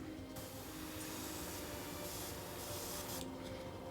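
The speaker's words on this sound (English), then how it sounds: "so we've got quite a wide spray on there." An airbrush sprays paint at higher pressure, a continuous broad hiss that holds steady for the whole stretch, close and fairly even with slight swells.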